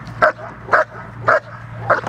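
A dog barks four times in a steady rhythm, short sharp yaps close by, with a low hum in the background.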